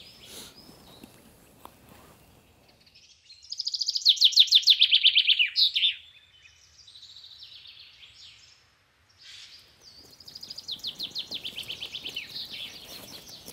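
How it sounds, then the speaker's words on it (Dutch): A chaffinch sings in a wooded spot around Boxtel, with two bright, rattling song phrases close by, each ending in a flourish, separated by a brief pause with softer chirps. "Dat is de vink. Ja. En hij slaat helemaal nu."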